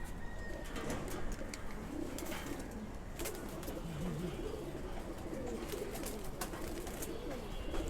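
Silver pigeons cooing in a loft, soft low repeated coos layered among several birds, with steady background noise and occasional fluttering or clicks throughout.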